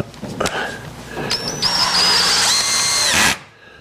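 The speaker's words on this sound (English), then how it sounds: "Now, we put it up there, and we screw it down." A power drill drives screws through a crown molding board set across an angled jig, with short bursts at first, then a long steady whining run that revs up and cuts off sharply, close and loud.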